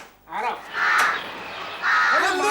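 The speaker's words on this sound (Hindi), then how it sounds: "कौवा जोर से बोल रहा है" A crow caws loudly in several harsh, drawn-out calls close by in a Hindi TV comedy episode scene, with someone speaking briefly between the calls.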